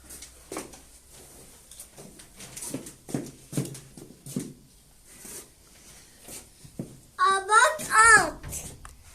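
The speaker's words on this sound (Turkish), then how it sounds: "sanırım o bir eşek Ege." Soft tapping and light knocks under quiet talk, followed by a loud donkey braying near the end, on a village farm.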